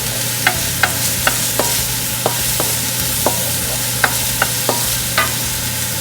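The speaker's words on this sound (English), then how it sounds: "Just sauteing our celery." Celery sautéing in olive oil in a pan, a steady low sizzle broken by a series of sharp clicks and taps of a utensil stirring against the pan, with no voices.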